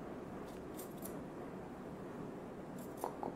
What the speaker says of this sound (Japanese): この幅の出てくる毛は切っちゃいます。